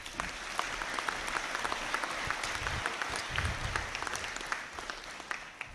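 A large audience at a university graduation conferring ceremony gives sustained, dense applause, a continuous wash of many hands clapping that holds steady throughout.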